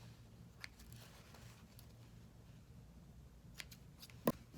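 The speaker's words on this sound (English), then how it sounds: "So I'll trim off my threads." Scissors trimming sewing threads while making a fabric scrunchie: a single crisp snip near the end, preceded by faint handling ticks over a low background hum, with no voice.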